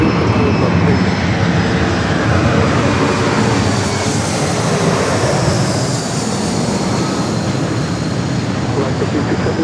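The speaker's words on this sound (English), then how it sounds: "We got that American Dreamliner heading here to the north." An American Airlines Boeing 787 Dreamliner at LAX makes a loud, steady jet engine roar that fills the whole stretch without a break, while faint radio chatter sits underneath.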